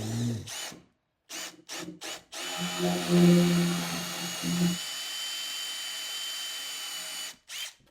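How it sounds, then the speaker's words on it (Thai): Power drill running at top speed boring a hole, a steady whine for a couple of seconds after a few short bursts, then a quieter continued whir with brief taps at the start and end. "ผมก็จะปรับไปที่สปีดความแรงสูงสุด พร้อมเจาะแล้วอะเจาะความลึกก็ให้มันมิดพอดี"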